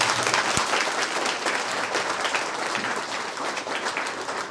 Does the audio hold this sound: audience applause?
yes